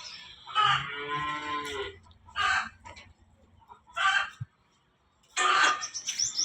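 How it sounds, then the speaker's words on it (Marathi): A buffalo in a cattle shed moos loudly in several long, drawn-out calls separated by pauses, close by, with faint barn background noise between them. "ही म्हैस आहे"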